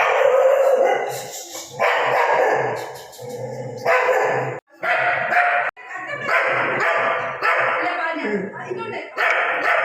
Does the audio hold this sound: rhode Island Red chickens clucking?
no